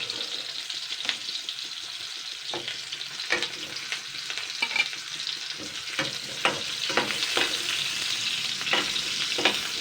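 Chicken pieces lightly frying for chicken pulao give a steady, close sizzle, broken by intermittent scraping stirs of a spatula against the pan, with no talking.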